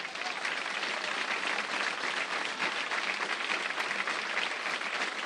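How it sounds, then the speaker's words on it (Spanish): A crowd at a pro-democracy rally applauds mothers and grandmothers in attendance, producing dense, continuous, even clapping at steady volume from start to finish. "con ese mismo aplauso saludar a las madres y abuelas que nos están acompañando"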